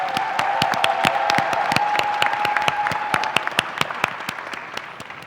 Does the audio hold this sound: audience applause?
yes